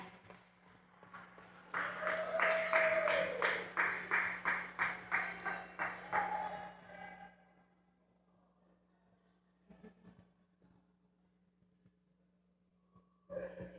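Audience applause at a youth empowerment summit in Childs Park, a burst of rhythmic clapping and cheering lasting several seconds before fading, followed by quiet with a few faint knocks.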